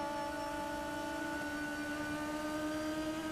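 A Radical race car's engine is heard from onboard during a Radical Cup race at Lime Rock Park, a loud, steady, sustained drone with a constant pitch throughout.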